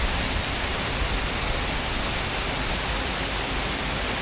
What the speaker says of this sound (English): this is the perfect place to end it, right here by this waterfall.